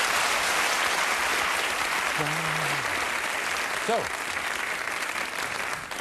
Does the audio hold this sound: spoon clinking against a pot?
no